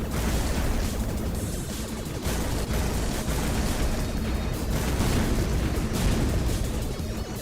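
An arcade light gun game in which a ship shoots asteroids, heard as a continuous dense barrage of shots, bursts and explosions, loud and unbroken, with no talking.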